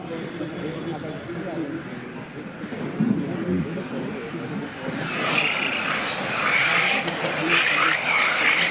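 Stock cars race around a track in a C-Main final, engines droning and swelling together with squealing tires, heard from trackside under an announcer's voice.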